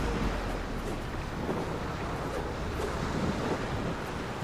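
Wind blowing in the Tomb Raider video game, a steady broad rushing whoosh with no breaks, even in loudness and heard alone.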